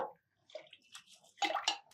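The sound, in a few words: washing rice and split moong dal in water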